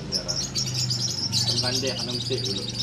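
A small kampung songbird chirps steadily in a high, busy warble close by, mixed with lower cooing and people talking underneath throughout.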